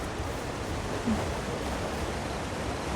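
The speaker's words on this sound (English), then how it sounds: "Oh, there is a little waterfall here. At first I thought it was the wind in the trees, but it was not." A small waterfall in Elder Scrolls Online gives a steady, even rush of falling water, close and continuous with no breaks or voices.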